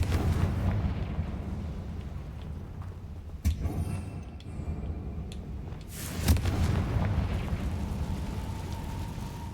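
Confringo fire spell cast in Hogwarts Legacy: two sharp, loud blasts a few seconds apart, each with a brief crackling burst, over a rumbling game ambience, no speech.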